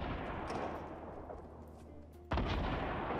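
Gunfire from players shooting in Fortnite booms and crackles continuously, a dense mid-distance barrage that suddenly grows louder and closer near the end.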